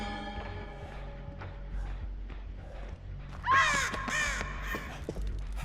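A flock of crows caws loudly and flaps up in the Dead by Daylight horror game, a burst of harsh overlapping calls that rises over low ambient game noise and a faint background hum.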